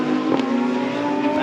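GT World Challenge America race cars at Sonoma Raceway during a 2022 race, a steady loud engine drone with a brief rise near the start, heard continuously without speech.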